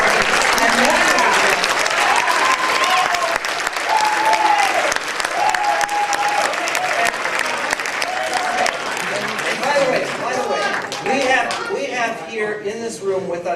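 Loud sustained applause from a lecture audience, dense clapping filling the room with cheering voices and shouts mixed in, continuing throughout.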